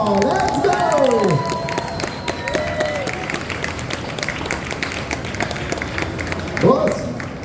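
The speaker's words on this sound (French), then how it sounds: "Veuillez applaudir comme il se doit notre invité, Marquand." Convention audience at a fan event in Le Mans applauding and cheering a guest, a dense wash of clapping and crowd noise with some shouts and voices mixed in, steady throughout.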